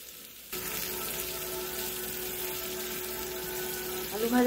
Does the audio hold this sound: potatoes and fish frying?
yes